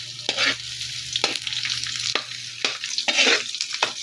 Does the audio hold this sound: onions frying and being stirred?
yes